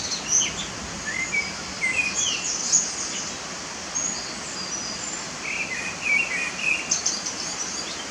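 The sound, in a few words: common blackbird song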